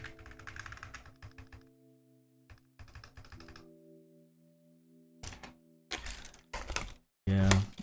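Keys on a Mode SixtyFive prototype 65% mechanical keyboard with tactile switches clack in short bursts and scattered taps, separated by pauses, over a steady low tone.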